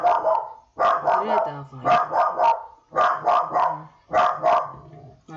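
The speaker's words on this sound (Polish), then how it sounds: "A nie, siebiczka szczeka." A dog barks indoors in repeated clusters of sharp, loud barks, close by, with short pauses between bursts, while a person speaks briefly.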